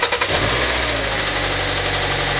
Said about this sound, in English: we're going to have a listen to the engine at startup.